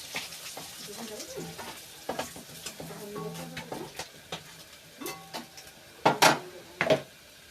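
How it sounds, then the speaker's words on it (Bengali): Fish frying in a pan makes a soft sizzle under intermittent scraping and stirring, with a few sharper clatters of utensils against the pan near the end. "থোর ভাজা কমপ্লিট, মাছ ভাজা হচ্ছে।"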